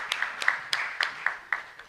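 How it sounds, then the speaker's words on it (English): Audience clapping at a puppetry festival council meeting in Bali, heard as a sparse, steady run of distinct claps, about four per second, fairly quiet and with no voices over them. "Voilà, donc applaudissons-les"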